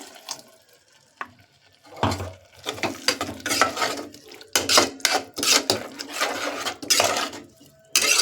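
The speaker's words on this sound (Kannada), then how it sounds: "ಇವಾಗ ಇದಕ್ಕೆ ನಾವು ಜಾರ್ ತೊಳೆದಿದ್ದು ಒಂದು ಸ್ವಲ್ಪ ನೀರು ಹಾಕ್ಕೊಳ್ತಾ ಇದ್ದೀನಿ" Water rinsed from a grinding jar splashes into a cooking pan of tomato masala, a few clinks of the jar against the pan between uneven pouring bursts, close and alone.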